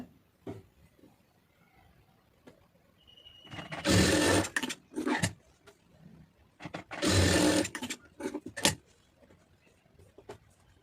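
A sewing machine stitches the neckline of a blouse in two loud bursts of rapid whirring, each a couple of seconds long, separated by short pauses and small clicks of handling the fabric.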